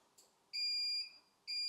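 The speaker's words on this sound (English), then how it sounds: "Once your timer reaches 0 and the alarm goes off" A heat press timer alarm sounds after pressing sublimation glass coasters, giving a faint short chirp and then two loud, sustained electronic beeps with a bright, piercing tone, alone with no talk.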